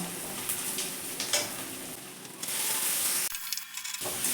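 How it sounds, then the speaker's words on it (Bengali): Tomatoes frying with lightly fried onions in a pan for a Bengali prawn and banana-flower ghonto, a steady close sizzle with stirring scrapes and a brief quieter dip near the end, no talking. "টমেটোটা আমি ভালো করে ভেজে নিয়েছি একদম গলে গেছে"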